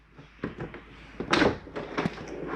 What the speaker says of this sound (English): folding door